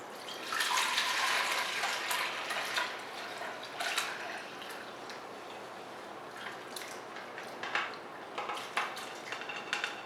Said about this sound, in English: So I got a colander and a large bowl, and I'm going to strain it.